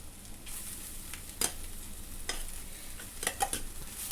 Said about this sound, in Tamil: இப்போ வந்து நம்ம இதோட ரைஸ் போட்டுக்கலாம்.